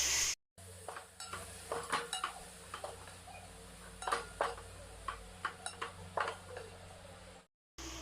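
Tomatoes sizzle softly in a pan of chili-powder masala for a tomato gravy, with a spoon scraping and clinking against the pan in irregular strokes, faint and close, no voices.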